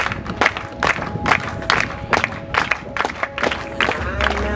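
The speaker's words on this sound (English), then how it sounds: "Let's give them a round of applause." A crowd applauds and cheers at a unicycle competition's advanced battle. The clapping comes in loud rhythmic bursts, and voices call out over it.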